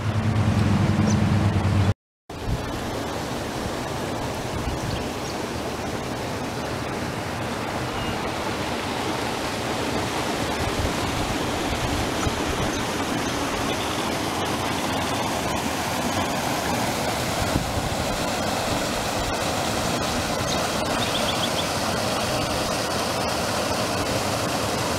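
Creek water flows steadily where it crosses a road at a gold-panning spot, a continuous broadband rush that stays loud and even throughout, broken only by a brief dropout near the start.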